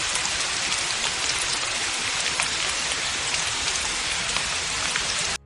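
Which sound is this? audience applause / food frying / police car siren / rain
rain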